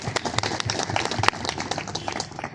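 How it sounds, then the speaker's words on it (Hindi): A crowd of farmers claps together at an outdoor crop-residue awareness meeting, a dense, steady round of applause lasting a few seconds with one sharper clap standing out midway. "सभी अपने लिए तालियां बजाएंगे एक बार"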